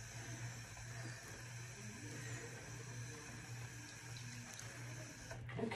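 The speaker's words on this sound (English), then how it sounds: "I'm gonna wash my hands off." Tap water runs steadily into a sink while hands are washed, a soft continuous hiss over a low hum, close and unbroken, with a faint clatter near the end and no talking.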